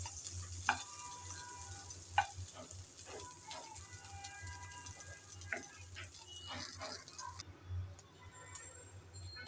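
Prawns fry in hot oil with a low, steady sizzle, punctuated by occasional sharp ticks and clinks of stirring, fairly quiet and without talk.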